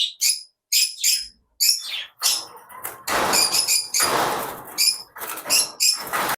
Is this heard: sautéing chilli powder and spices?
no